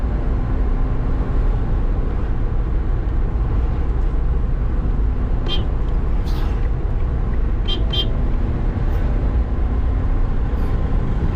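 Steady loud car engine and road drone from inside a vehicle as it accelerates up through third and fourth gear, a continuous roar with faint traffic beeps.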